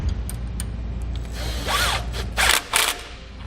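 Socket and wrench snugging bolts on electric trailer brakes with dust shields, a few short metallic ratcheting bursts and clicks close by over a steady low workshop hum.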